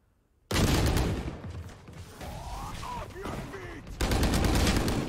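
Rapid Bulldog rifle gunfire during a Valorant championship match rattles loudly over game sounds and explosions, with a brief lull in the middle before another dense volley; a caster talks throughout.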